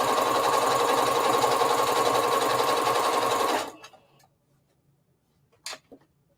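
A sewing machine stitches a fabric circle dress in a dense, even run for several seconds, then winds down and stops, leaving near-silence broken by a couple of faint clicks.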